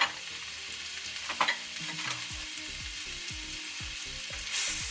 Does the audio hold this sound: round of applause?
no